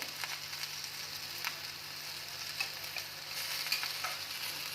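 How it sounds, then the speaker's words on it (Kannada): Ghee goes onto capsicum rice in a hot pan, giving a soft steady sizzle with faint scattered ticks and scrapes, quiet and continuous with no voices. "ಮೇಲೆ ಸಹ ಸ್ವಲ್ಪ ತುಪ್ಪ ಹಾಕ್ತಾ ಇದ್ದೀನಿ"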